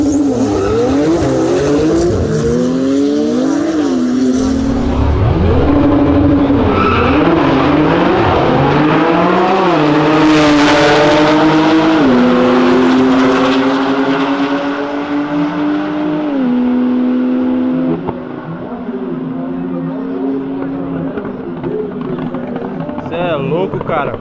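A 750 hp Porsche race car launches and accelerates hard, its engine climbing through several rising pitch sweeps and gear changes, with a bright tire-squeal edge and a loud, close roar that trails off toward the end; voices talk over it.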